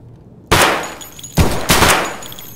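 Gunfire from the Escape from Tarkov video game: three sharp, loud shots, one and then a quick pair about a second later, each leaving a short echoing tail, with no talking.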